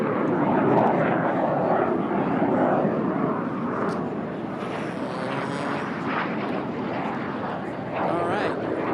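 An L-39 jet races at the Reno air race, its engine roar steady and loud for the whole stretch, a broad rushing drone with a commentator's voice running over it.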